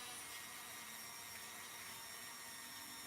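A Dremel rotary tool fitted with a sanding bit grinds small plastic support nibs off a model kit part, a steady high-pitched whirring buzz that holds close and constant throughout with no talk.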